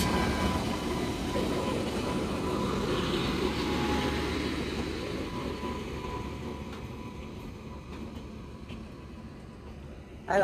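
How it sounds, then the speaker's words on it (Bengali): A train pulls away from a platform at New Farakka Junction railway station with a steady, heavy rumble that slowly eases off. A sharp clatter follows at the very end. "তো এই মুহূর্তে ট্রেনটা ছেড়ে দিল"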